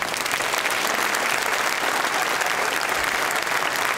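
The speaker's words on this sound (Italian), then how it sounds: "direi di fare un applauso perché lo merita" An audience applauds at an afternoon Baroque music concert in a cloister, steady and fairly soft crowd clapping throughout.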